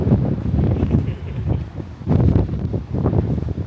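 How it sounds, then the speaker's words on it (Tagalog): Strong wind gusting outdoors at a Melbourne waterfront, buffeting loudly in uneven surges that rise and fall every second or so, with a rough, blustery roar and no voices. "Biglang lumakas yung hangin yun."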